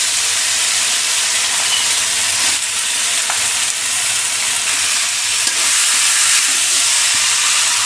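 Cut potatoes go into baim fish frying in spices, a loud, continuous close sizzle with faint stirring scrapes throughout and no voices.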